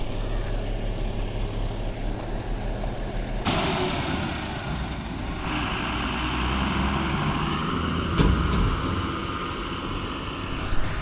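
Dumper truck engine droning loud and steady during a night ride, with a rumbling low roar, a sudden surge in noise partway and occasional rattles; no talk.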